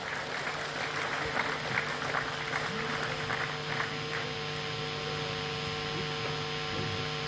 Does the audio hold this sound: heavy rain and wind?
no